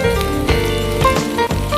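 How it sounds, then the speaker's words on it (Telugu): Onions frying in a pan of oil during upma preparation, a steady, close, loud sizzle with faint crackles and no talking. "ఆనియన్స్ ఫ్రై అవుతున్నాయి కదా."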